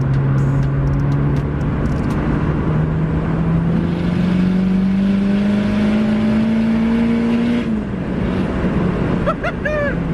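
A turbocharged 350 hp ninth-generation Honda Civic Si engine revs up steadily while accelerating, a rising drone, loud and close, then eases off near the end.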